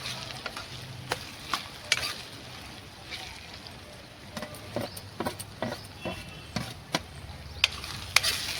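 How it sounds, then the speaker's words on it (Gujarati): Chopped ginger sautéing in oil for Gujarati tuver totha, a soft steady sizzle broken by sharp spatula scrapes and taps against the pan at irregular intervals. "આદુને પણ આપણે 1 થી 2 મિનિટ સુધી તેલમાં સરસ સાંતળવા દેવાનું છે."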